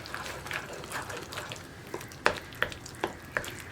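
Mashed ripe banana mixture is stirred in a pan over a medium flame for a sweet banana varattiyathu, giving soft scraping and sticky stirring strokes at an uneven rhythm under a faint sizzle, close by and fairly quiet.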